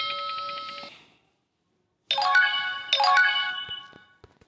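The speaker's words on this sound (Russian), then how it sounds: "опять мне Джек звонит этот" Incoming-call ringtone in a video game: a steady electronic tone that fades out, then after a pause two bright melodic chiming bursts, clear and with no talk.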